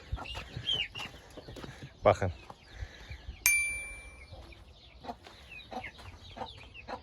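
Chickens, including Indian hens, cluck and murmur intermittently in a backyard coop, with a sharp metallic clang partway through and someone speaking briefly.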